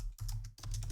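Keys clatter on a computer keyboard in a brief burst of quick, close taps over a low hum.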